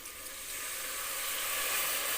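Water is poured into a pan of fried goat trotters for paya, setting off a loud, steady hiss and sizzle that swells slightly and keeps going without pause.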